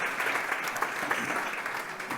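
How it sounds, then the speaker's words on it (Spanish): A brief, dense burst of audience applause at a university panel event, steady clapping heard from a moderate distance with no talk over it. "Un aplauso también."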